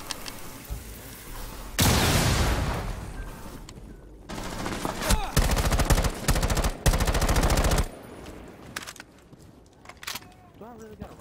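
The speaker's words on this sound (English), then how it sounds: "They're shooting." Rainbow Six Siege firefight with a loud, sharp blast followed by rapid, sustained automatic gunfire rattling for several seconds before it cuts off to quieter room sounds.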